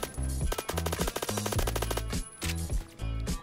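MP5 submachine gun in Roblox Phantom Forces firing several close, loud automatic bursts separated by short pauses.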